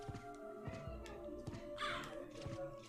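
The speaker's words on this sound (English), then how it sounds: "And now the fucking crow's back." Crow in Castlevania: Symphony of the Night on PS4 gives harsh, raspy caws over game music with thumping impacts, one loud squawk burst in the middle of the short stretch.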